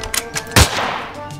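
A single sharp gunshot from a rifle in the Weapons Simulator PC game, fired once around the middle and leaving a short decaying tail, with faint tapping before it.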